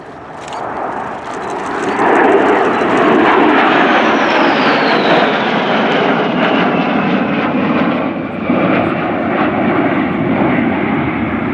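Polish Air Force Su-22 jets arriving for a flying display at an airshow, a loud sustained jet roar rising in the first two seconds and holding steady with a descending whine as they pass, no talk.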